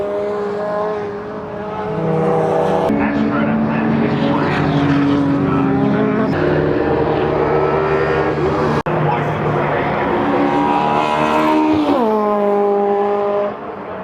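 Race cars run laps at Brands Hatch during Tunerfest South 2024. Loud engines climb and drop in pitch through gear changes as several cars pass close in succession.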